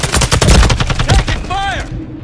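Rapid bursts of automatic rifle fire from a SCAR-L and KRISS Vector in Modern Warfare II's Dark Waters mission, loud and close, with shouted radio-style callouts over the shots.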